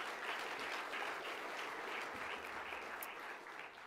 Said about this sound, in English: So to start with, a round of applause